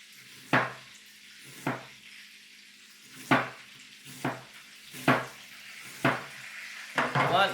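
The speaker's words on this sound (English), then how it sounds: "I want to slice this finely." A knife slices an onion finely on a cutting board, about eight crisp, evenly spaced chops, each a short sharp thud with a brief crunch, close and clear with no talking.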